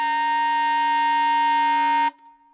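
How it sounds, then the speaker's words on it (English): Alto saxophone playing a high G using the basic fingering with the octave key: a single steady, bright, sustained note held for about two seconds before stopping abruptly, heard alone. "So this is a basic fingering for that high G"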